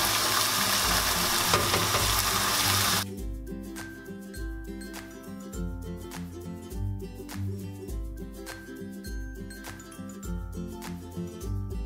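Chopped onions hit a hot pan and fry with a loud hiss for the first few seconds, then settle into a steadier sizzle under looping background music with bright clinks.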